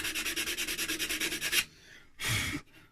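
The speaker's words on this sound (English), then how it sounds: "can just get in there with the sandpaper" An oak ashtray is sanded by hand with sandpaper in fast, even back-and-forth rubbing strokes that sound close and steady, then pause, followed by one longer rub.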